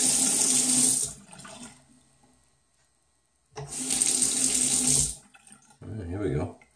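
Running tap water rinsing a 1977 Gillette Trac II razor at a sink, two loud gushing bursts separated by a quiet gap, close up, with a voice speaking briefly at the end.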